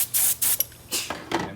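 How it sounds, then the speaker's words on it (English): A spray bottle of hypochlorous acid cleaner is pumped in a few quick, close hissing bursts over surfaces and toys, with no voices. "You just spray it down"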